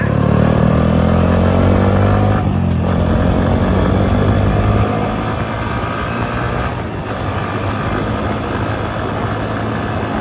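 A motorcycle rides along a village road, its engine a loud, steady drone heard from on board with continuous wind and road rumble, easing slightly about halfway through.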